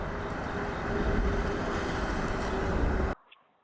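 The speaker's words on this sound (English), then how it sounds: "while outside in a relatively windy situation with the Bose NCH700 headphones" Gusty outdoor wind buffets the microphones of Bose NCH700 headphones as a dense, continuous rumble, then stops abruptly near the end, leaving near silence.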